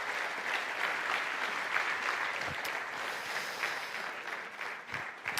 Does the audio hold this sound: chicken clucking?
no